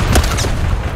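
A mortar explosion in the video game Zero Caliber: one loud, deep boom that hits near the start and rumbles briefly before fading into a low background roar.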